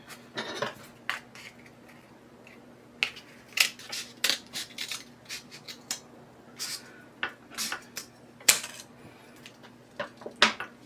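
Scissors snip through Christmas ornament material in a series of short, crisp, close cuts with small handling clicks between them, no voices.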